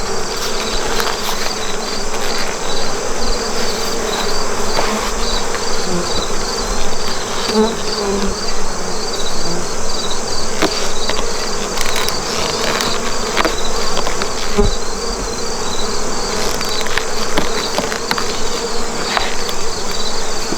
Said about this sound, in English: at this time of the year bees tend to get cranky